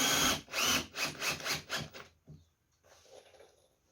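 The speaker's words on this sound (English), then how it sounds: "These Torx drives are an absolute pleasure to drive." A power driver sinks Torx screws into wood while assembling a 1.8 m wide, 2 ft quarterpipe: a run of close, loud rhythmic whirring pulses about twice a second that stops abruptly, leaving a few faint knocks and low handling noise.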